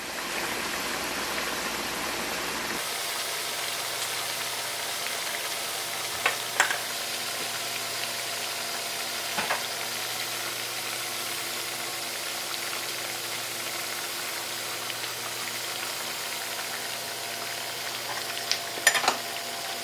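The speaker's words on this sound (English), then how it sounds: "now we fry for about 5 minutes" Potato fries crackle and sizzle steadily in hot frying oil, a close, continuous hiss with a few faint clinks from stirring and no speech.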